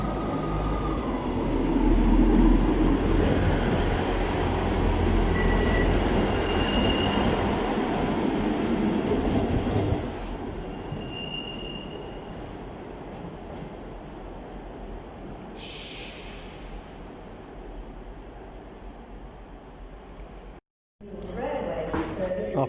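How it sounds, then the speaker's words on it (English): East Midlands Railway HST arriving at Nottingham station on a London St Pancras terminating service, loud rolling rumble easing as it slows, brief brake squeal, with a voice speaking over it. "Our final train during our stay here is a terminating East Midlands Railway service from London to Pancras. This is a HST."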